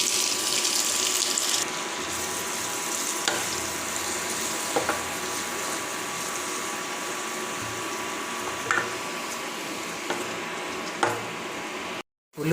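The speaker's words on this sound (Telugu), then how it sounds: "ఉల్లిపాయలు కూడా కొన్ని వేసుకోవాలా వేసుకొని ఇట్లా దూరగా కలుపుకోవాలి" Onions sizzle steadily in hot oil with cumin and mustard seeds for a tomato curry, a continuous close frying hiss broken by a few faint clinks of stirring, with no voices.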